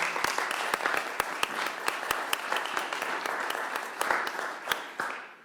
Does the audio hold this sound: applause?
yes